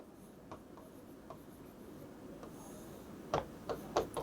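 Chalk or marker writing on a board in a classroom lesson, a series of short scratchy strokes, faint at first and then louder near the end, with no talk.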